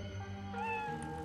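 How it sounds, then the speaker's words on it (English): A cat in a Roblox horror game gives a single drawn-out meow, close and clear over faint background music. "Catch Kitty the cat"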